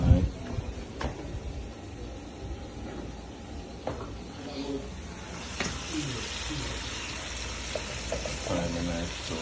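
Lobster tail sauteing in butter, a soft continuous sizzle with clatters of cookware and a utensil, close by, while someone talks over it.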